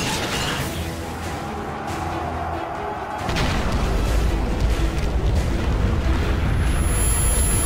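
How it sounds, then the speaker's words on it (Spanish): Metro Last Light gunfire and explosions: a rumbling mechanical bed gives way to a louder, sustained barrage of booms and shots. "Es simplemente liarse a tiros."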